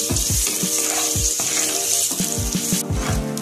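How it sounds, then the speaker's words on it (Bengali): Eggplant slices seasoned with salt and turmeric fry in hot oil, giving a steady, close sizzle throughout with a faint tonal hum beneath it. "বেগুনটা আমি এবার ভেজে নেব"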